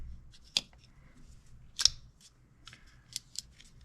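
A Hogue RSK MK1 G2 folding knife is thumb-flicked open, giving sharp metallic snaps and clicks: one at the start, a louder one in the middle and a few lighter clicks near the end, close and crisp over quiet background.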